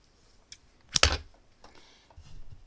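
Scissors snip through crochet yarn in one sharp, close click, followed by faint handling rustles and small taps.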